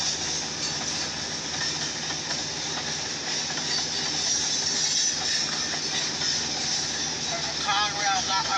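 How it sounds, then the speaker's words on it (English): A long Norfolk Southern mixed manifest freight train made up largely of hopper cars rolls steadily past, producing a continuous loud rumble and hiss of wheels on rail. "Oh, this is a big, there's a lot of hoppers in this train."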